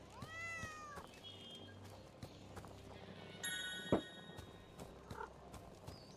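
A cat meows in the point-and-click adventure game Nelly Cootalot: Spoonbeaks Ahoy, a rising, wavering cry at the start over low game ambience, followed by scattered effects including a sharp burst and chiming tones.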